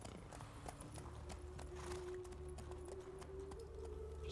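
Horse hooves clip-clop steadily as a rider travels along a road in The Witcher III, a continuous trotting rhythm set against a sustained tone and game ambience, with no talking.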